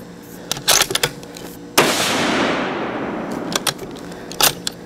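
A single loud Savage 110 High Country rifle shot cracks out and decays into a long echoing rumble, framed by faint clicks and handling noises before and after.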